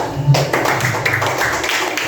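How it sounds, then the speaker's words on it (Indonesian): Classroom students clap together for group 3, a short burst of light, quick hand claps with tapping, close and fairly loud. "beri tepuk tangan untuk kelompok 3."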